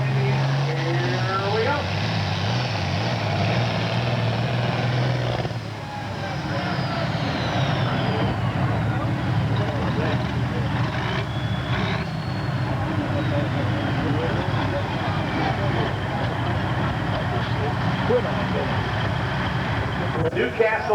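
A John Deere farm tractor in the pro farm tractor class at a tractor pull in Shepherdsville, Kentucky, its engine roaring steadily and loudly throughout while an announcer talks over the PA.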